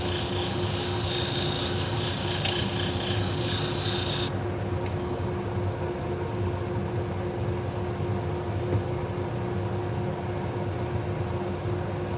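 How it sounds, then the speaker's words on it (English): Salon shears being sharpened on a rotating sharpening machine, a steady abrasive rasp over a constant motor hum, bright grinding for the first few seconds, then a duller continuous whir. "we're sharpening Salon Shears for a local stylist"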